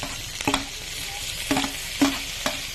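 Tomatoes frying in a pan, a steady sizzle punctuated by several sharp scraping clicks as a utensil stirs, close and free of talk.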